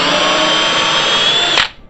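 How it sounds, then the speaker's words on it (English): A power drill bores a hole through clamped wood held in a jig, a loud close whine running steadily before it stops abruptly and spins down. "I've got my drill all set and I've got my piece clamped in place, and I'm going to just sneak this in here and start it up"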